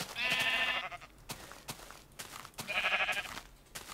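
Minecraft sheep bleat twice, each a wavering, nasal baa lasting under a second, with soft clicks and game sounds in between.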